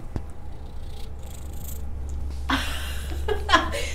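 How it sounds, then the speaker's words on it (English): A shelter cat up for adoption in Palm Beach County purrs close to the microphone in a low, continuous rumble, with soft rustling and handling noises breaking in toward the end. "Such a satisfying purr."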